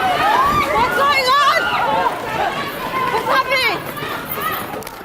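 A panicked crowd runs at a London train station, with many overlapping voices shouting over a dense bustle of movement that stays loud and close throughout.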